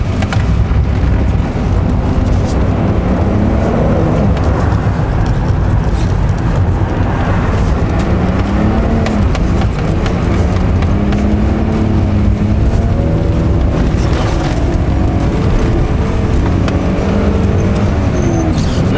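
A car drifts on a snowy race circuit, its engine droning loud and continuous throughout with rising and falling revs as it slides, close by and unbroken by any talk.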